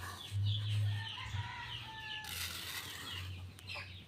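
Chickens cluck and murmur close by at snack time, with a few louder bursts of clucking over a busy background of birds and rustling.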